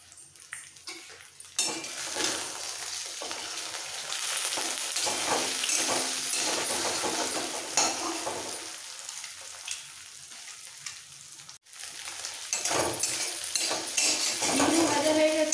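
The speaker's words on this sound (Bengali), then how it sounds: "ডিমটা ভেজে তুলে নিতে হবে।" A lightly salted egg fries in hot oil in a wok, a loud, continuous broadband sizzle with scraping and clinking of a utensil against the metal, briefly dropping away mid-way before the sizzling surges back.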